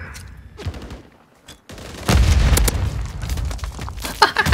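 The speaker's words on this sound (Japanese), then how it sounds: "グレネード" A grenade blast in the Call of Duty: Modern Warfare 3 shooter, a loud booming burst followed by heavy rattling gunfire and further bangs after a brief quiet moment.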